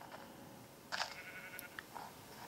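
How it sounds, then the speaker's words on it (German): Sheep in the Minecraft video game bleat faintly, with one short bleat and a couple of softer ones over a quiet game background. "Schafe."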